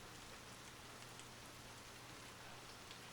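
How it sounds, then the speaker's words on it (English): Steady rain pattering against the windows of a small semi-detached house in a quiet suburb, an even continuous hiss of drops with a low constant hum beneath, no voices. "The rain tapped gently on the windows of the small semi-detached house"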